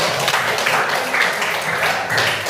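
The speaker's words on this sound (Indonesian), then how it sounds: "tepuk tangan dulu untuk kita" A classroom of students claps together in a dense, continuous patter, fairly close and steady from start to finish, with only faint voices underneath.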